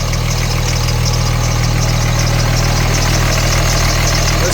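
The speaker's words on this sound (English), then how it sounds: "Listen to those DDP injectors just singing." A rebuilt diesel truck engine fitted with DDP injectors and new pulleys and belt idles steadily, with a loud, even low rumble and a constant rattling clatter.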